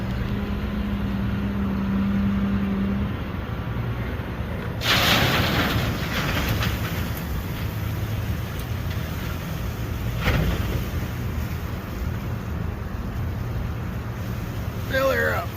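A big front loader at a hardwood lumber yard dumps a load of roughly six yards of dirt into a 6-ton trailer, with a heavy, rumbling rush of falling dirt over a steady engine drone and a second thud later.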